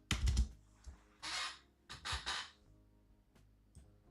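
Someone types on a computer keyboard in a set theory puzzle game, with short clustered bursts of clicking keys separated by brief pauses. No one speaks.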